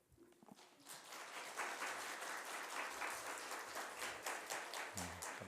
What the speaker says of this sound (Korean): 하나님께 영광을 돌리는 박수가 있겠습니다.